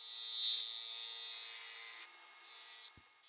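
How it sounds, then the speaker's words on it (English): A negative rake scraper with a fine burr dragged across a spinning quartersawn wooden bowl on a lathe, a quiet steady hissing scrape that swells early, then thins out, ending with a faint tap. "I'm going back over it with the other negative rake scraper that I put a burr on with my 600 grit CBN wheel."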